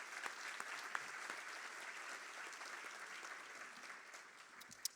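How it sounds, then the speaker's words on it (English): An audience at a Power Breakfast business event applauds its sponsors with steady, even clapping that carries on for the whole stretch, sounding soft and somewhat distant, with no voices over it. "Let's please have a round of applause for all of our sponsors."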